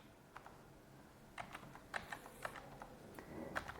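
Quiet, scattered keystrokes on a computer keyboard as numbers are entered into a table, irregular taps in small bursts with faint room hiss between them and no talk.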